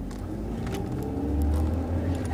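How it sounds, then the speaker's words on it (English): Manual-transmission car pulling away in first gear as the clutch is let out and gas applied, a steady low engine rumble that swells slightly midway, close and continuous with no talking. "Alright, I'm in first gear. You push the gas and let off the clutch."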